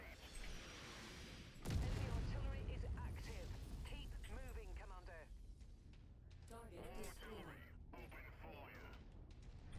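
Artillery fire in the mech combat game Mechwarrior 5, a sudden heavy blast followed by rattling mechanical clatter and further impacts, mixed under players talking over voice chat.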